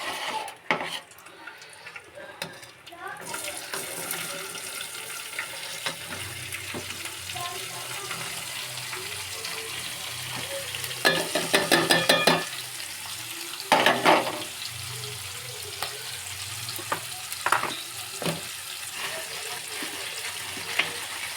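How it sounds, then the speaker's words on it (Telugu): Onion and green chillies fry in a pan that was just used for frying fish, giving a steady sizzle throughout, with louder bursts of stirring and scraping at intervals. "ఇప్పుడు ఉల్లిపాయ పచ్చిమిరపకాయ వేస్తున్నా"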